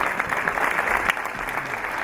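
A crowd of listeners claps steadily at an Urdu mushaira poetry gathering, a dense, even wash of applause that carries on throughout without a break.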